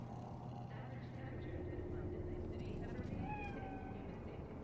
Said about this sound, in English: Do you see it? The cat.